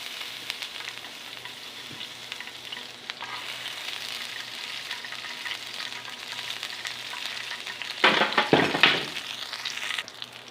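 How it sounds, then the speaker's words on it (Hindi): Cashews, almonds and raisins fry in a pan for Saudi-style kabsa, giving a steady soft sizzle that swells into a louder, crackling burst near the end, with no voices. "और अब इसमें डाल देंगे खुश्क मेवे, इसको हम फ्राई कर लेंगे"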